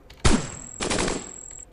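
Large cannons fire in the Cogmind robot video game, two loud blasts in quick succession, each a burst of rumbling noise, with a thin high electronic tone running between them.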